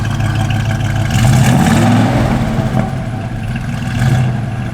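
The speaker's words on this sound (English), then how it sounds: "Give it a little rev, Gary." A 1968 Chevrolet C10 pickup's engine revs up twice, swelling from a steady throaty idle to louder blips and settling back, heard close with no talking.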